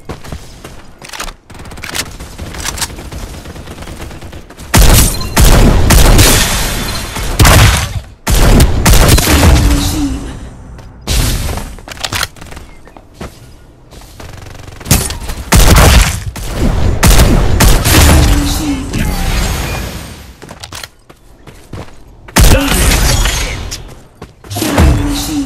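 Heavy gunfire in the video game Farlight 84 comes in loud, dense bursts separated by short pauses, sustained volleys of rapid shots with booming impacts, with occasional voice lines from the game.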